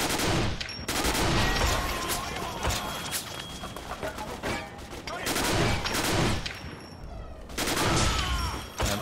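Rapid, loud bursts of gunfire from a favourite gun in the shooter game 50 Cent: Blood on the Sand, in dense fusillades separated by brief pauses.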